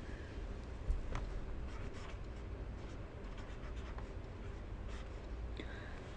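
Handwriting on paper during an engineering graphics exam solution, a steady soft scratching of pen or pencil strokes with faint room noise, close and quiet, no talking.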